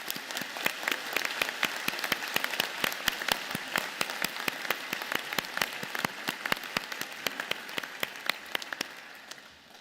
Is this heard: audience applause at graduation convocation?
yes